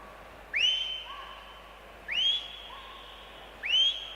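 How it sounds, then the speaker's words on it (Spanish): Three sharp rising whistles, evenly spaced about a second and a half apart, carry over a quiet indoor pool hall from coaches at a Spanish short-course winter swimming championship, each followed by a fainter echo. "Y esos silbidos que oyen ustedes"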